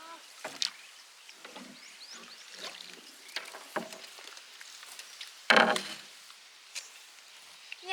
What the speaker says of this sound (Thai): ปันไม่ค่อยชอบนั่งเรือก็เพราะแบบนี้แหละ เสียงคงคังคงคัง